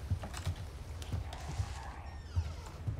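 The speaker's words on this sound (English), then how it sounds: "Oh, typewriter." Typewriter keys clack in Resident Evil 4 Remake, a sparse uneven run of soft mechanical strikes at close range over a low ambient hum.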